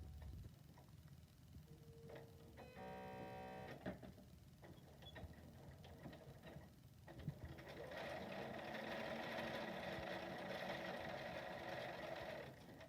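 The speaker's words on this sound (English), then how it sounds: "I'm going to just top stitch all the way around twice." Sewing machine top stitching around the edge of a fabric face mask with elastic ear loops, a steady mechanical whir that starts and stops in short bursts, then runs continuously and louder near the machine.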